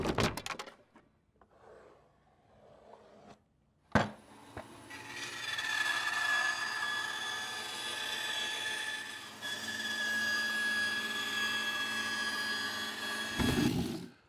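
A bandsaw cutting strips of maple and walnut: a brief startup, then a steady loud whirring blade drone with a high whine through the wood for about ten seconds before it winds down.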